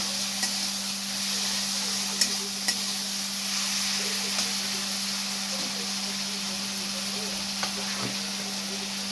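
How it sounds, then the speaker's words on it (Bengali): Garlic frying in a pan for chilli chicken gives a steady, even sizzle throughout, with faint occasional scrapes as it is stirred. "এটাকে নাড়াতে থাকবো।"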